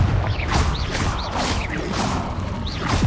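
Confringo spell casts in Hogwarts Legacy, repeated fiery whooshing bursts with crackling impacts at steady intervals over a dense, loud background of game effects, no voices.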